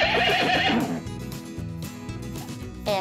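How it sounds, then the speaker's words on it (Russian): A horse neighs loudly and close, one shrill whinny that quavers and fades, followed by softer snorts and low rumbling, with a brief sharp burst at the end, as a farm animal sound in a children's cartoon. "Это лошадь."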